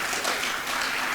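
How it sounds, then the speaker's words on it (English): Soft, distant round of applause from a conference audience at an academic session, a steady wash of clapping with no voices on top. "Please give Professor Giles a round of applause."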